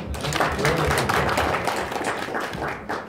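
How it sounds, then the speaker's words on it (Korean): An audience claps at a talk. The applause is short, dense and fairly loud, and it carries on for a few seconds with no break. "박수 한번 할까요?"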